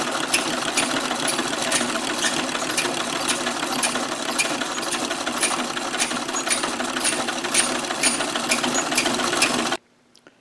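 Sewing machine stitching a reinforcement panel for a tipi cover, a steady close whirring run with regular needle ticks that stops abruptly near the end.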